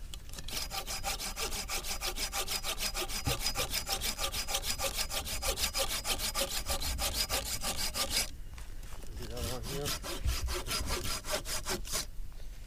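A hand saw cuts a notch into wood for an A-frame shelter, rapid steady back-and-forth strokes running continuously and close, with a brief change in stroke near the end.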